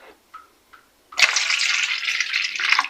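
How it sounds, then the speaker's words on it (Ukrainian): Warm water pours steadily into a glass, a close, continuous splashing stream lasting nearly two seconds after a few small clinks, with no talk over it. "Наливаємо два стакана теплої водички."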